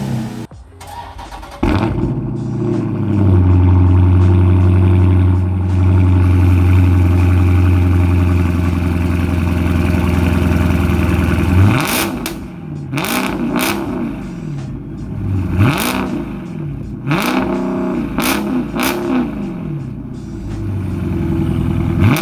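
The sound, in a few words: 2018 Dodge Charger Scat Pack engine with mid muffler deleted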